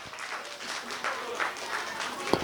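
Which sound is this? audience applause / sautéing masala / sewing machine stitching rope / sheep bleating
audience applause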